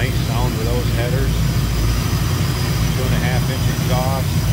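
A 1972 Buick Skylark convertible GS tribute with a V8 built to LT4 specs, headers and 2.5-inch exhaust runs with a loud, steady, unbroken rumble, while a faint voice is heard underneath.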